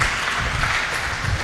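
Congregation clapping loudly in a church during a pastor's sermon, a dense, steady wash of many hands close by for the whole moment.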